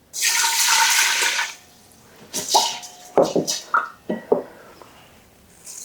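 Chicken stock is poured in a steady, splashing stream into rice in a kitchen for about a second and a half, followed by several short clinks and knocks of utensils and containers.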